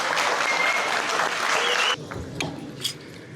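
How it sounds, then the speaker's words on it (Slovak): Applause at a school graduation ceremony, dense clapping from a crowd for about two seconds, then trailing off into a few scattered claps. "môžeme ešte takto spoločne jeden potlesk na rozlúčku pre nich a poďakovanie"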